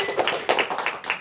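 Sparse clapping from a small audience at an open mic comedy night, a few separate claps in uneven rhythm, fairly close and moderately quiet.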